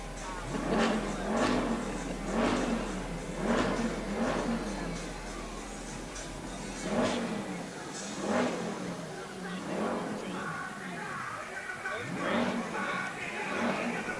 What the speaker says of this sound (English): there's Greg in the big old souped up truck